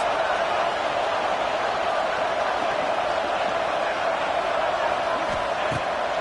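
Stadium crowd at a college football game roaring steadily for the defense on a third down, a dense continuous wash of cheering with a commentator's voice faint beneath.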